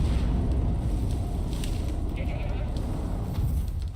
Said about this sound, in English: Yeah, just land on that goat.